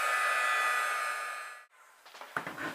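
A heat gun blows steadily for about a second and a half while drying Distress ink on a Christmas banner, then cuts off, leaving faint handling noises and a few soft bumps.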